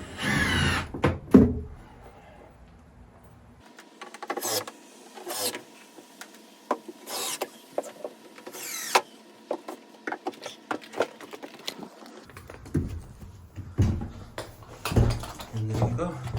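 Power driver sinking screws into a barrel sauna bench, several separate whirring bursts of varying length with pauses between them, close and fairly loud, with a person talking in between.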